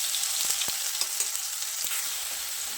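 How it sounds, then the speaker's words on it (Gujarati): Ginger and green chili paste fries in hot oil with mustard seeds and asafoetida, making a bright, close sizzle with a few sharp spits and crackles over a short stretch. "મરચાં અને આદુની પેસ્ટને સરસ ફ્રાય થવા દઈશું."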